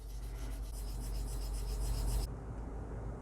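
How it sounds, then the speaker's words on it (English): Light sanding along the seams of a Bandai HGUC RX-78-2 Gundam plastic model kit part, a steady close rubbing rasp that runs continuously for a couple of seconds and then stops. "with just a little bit of light sanding, I'm already getting it down to a nice smooth surface"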